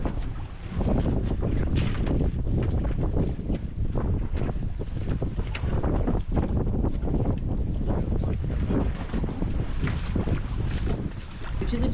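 Strong wind buffets the microphone aboard a boat on Casco Bay near a seaweed farm, a constant loud roar with rushing water beneath it.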